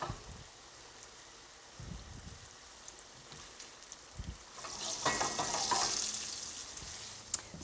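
Pork chop frying in vegetable oil in a pan, a soft steady sizzle that swells louder toward the end, with occasional faint knocks underneath.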